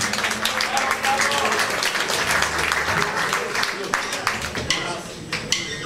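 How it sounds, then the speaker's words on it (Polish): Audience applause fills a Blue Note club concert celebrating sixty years of Poznań rock'n'roll, a dense, steady wash of clapping at close range with some cheering voices mixed in, easing slightly toward the end. "Brawa dla niego przede wszystkim."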